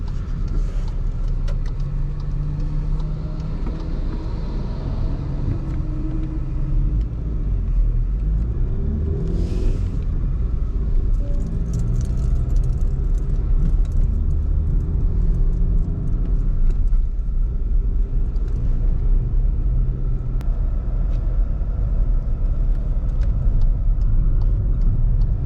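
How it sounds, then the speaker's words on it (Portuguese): VW Virtus MSI sedan with manual gearbox accelerating in fourth gear, a steady low engine drone and road rumble heard from inside the cabin, continuous and fairly loud throughout. "Aqui nessa situação eu tava de quarta marcha. Reparem como ele desenvolveu muito bem."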